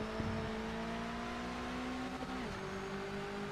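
Engine note of an MX-5 race car in the Project Motor Racing sim, a steady mid-pitched drone that holds and then drops slightly in pitch as revs ease, with no talk.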